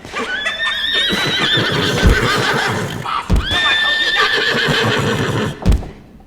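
Horses neigh loudly in a comedy Western gunfight scene, two long descending whinnies with a third shorter cry, over a dense, busy backdrop with thumps.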